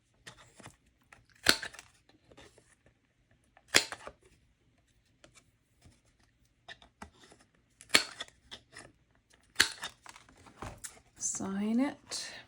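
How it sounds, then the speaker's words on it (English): Scissors trimming the edges of a watercolour feather bookmark on paper, a handful of separate crisp snips spaced a few seconds apart with quiet paper rustling between them, close and intimate. "Time to trim the edges."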